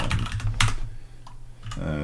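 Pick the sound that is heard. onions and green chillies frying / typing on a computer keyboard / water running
typing on a computer keyboard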